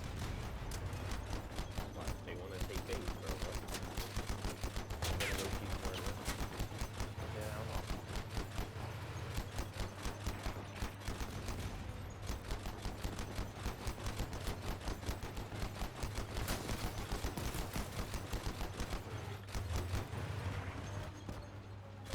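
Gunfire in the Crossout vehicle combat video game, dense rapid bursts of machine-gun fire rattling continuously with a steady low engine hum underneath, fairly quiet overall.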